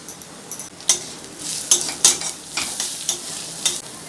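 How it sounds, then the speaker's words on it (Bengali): A spoon scrapes and stirs a semolina snack mixture with grated onion, sesame seeds, chili flakes, turmeric and cumin in a pan, with a light sizzle under irregular scraping strokes. "হালকা করে নাড়াচাড়া করে নিয়েছি।"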